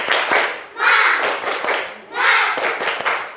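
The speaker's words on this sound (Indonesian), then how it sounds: "Kita tepuk semangat dulu ya, supaya kalian tetap semangat." A group of schoolchildren claps a rhythmic spirit clap in a classroom, loud, close bursts of hand claps and thumps in a repeating pattern, with children's voices mixed in.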